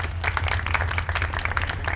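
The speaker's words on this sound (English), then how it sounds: "let's give Arash a round of applause" Audience members clap for speaker Arash at an astronomy talk, a brief, moderately loud burst of scattered applause with a low steady hum underneath.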